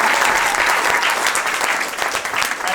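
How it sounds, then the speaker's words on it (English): Wedding guests applaud in a steady, dense burst of clapping that fills the room, loud and close throughout with no pauses. "Give her a round of applause, everyone."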